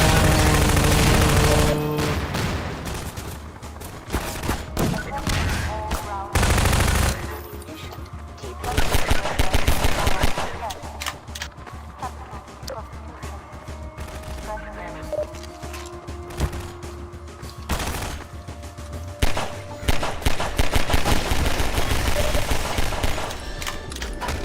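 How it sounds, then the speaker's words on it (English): Half-Life 2 video game gunfire: loud, dense bursts of rapid automatic shots and crashing impacts almost continuously, broken by a few brief lulls. "Now they're shooting me."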